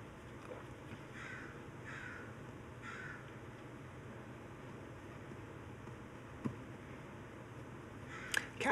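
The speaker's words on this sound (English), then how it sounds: "there's a crow right there" A crow outside caws several times at a moderate distance, a few evenly spaced calls over a low steady hiss, followed by a couple of brief sharp knocks near the end.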